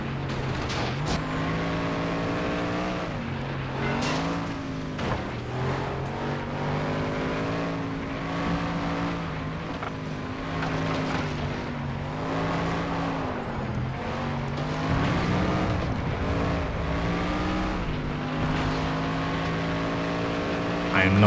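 A car engine in the PS2 racing game FlatOut 2, in a street class wreck cup race, drones and revs steadily with shifting pitch for the whole stretch, loud and close, with a voice talking over it.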